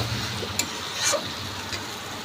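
Chicken pieces sizzle softly in a pan while slowly sautéed for chicken maharani, a steady low frying hiss with a few brief stirring clinks and scrapes, close and fairly quiet.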